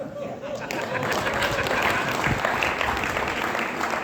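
A crowd at a political rally breaks into loud, sustained applause, with a voice speaking in Hindi over the clapping at the start.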